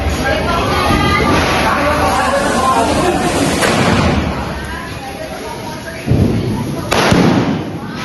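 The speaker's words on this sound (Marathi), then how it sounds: "it's time for second sky shot let's go" Diwali sky shot fireworks burst overhead in a series of loud pops and crackles, with a crowd murmuring in the background.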